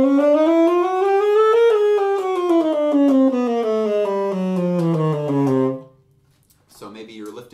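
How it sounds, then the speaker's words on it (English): Scale played on a single melodic instrument with uneven, mistimed fingering, notes rising and then falling in an irregular rhythm before stopping, followed by a short spoken remark. "inconsistencies between your fingerings that might sound like this"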